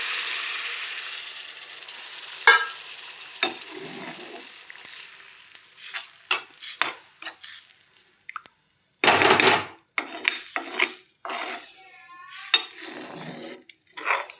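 Vegetables sizzle in a pan, ridged gourd and long beans with poppy-seed paste, as poppy-seed water is poured in, giving bursts of loud hiss between stirring and scraping, with quieter gaps of near silence.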